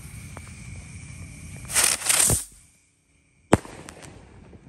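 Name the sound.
mini Circle Builds firecracker fireworks going off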